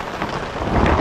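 Heavy rain pours steadily in a dense, loud, unbroken hiss with a deep rumble underneath, close and with no voices over it.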